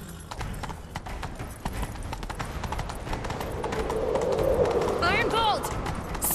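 Horse hooves galloping in The Witcher 3 video game, a fast continuous clip-clop rhythm of hoofbeats close up, building slightly louder, with a brief neigh and game ambience near the end.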